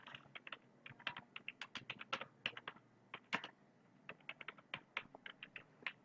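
Dummy text is typed on a computer keyboard in quick, uneven bursts of light key clicks, close and fairly quiet, with a short pause partway through.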